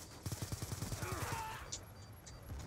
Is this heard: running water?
no